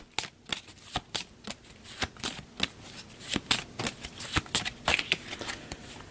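A deck of cards being shuffled close up in a rough riffle, with a rapid run of crisp snapping flutters and short bursts across several seconds, no voices.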